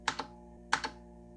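Two quick pairs of keystrokes on an Apple II keyboard, each pair a sharp clack followed by a softer one, close and clear over a steady low hum, with no voices.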